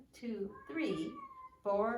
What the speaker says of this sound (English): I don't know if you can hear meowing